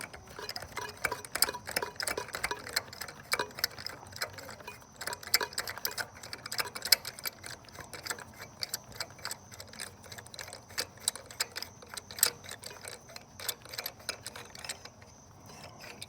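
Wrench working a spark plug out of a Honda J-series 3.5 V6 engine, giving rapid, continuous ratcheting clicks close up throughout, with no talking.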